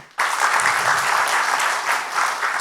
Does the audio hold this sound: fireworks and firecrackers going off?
no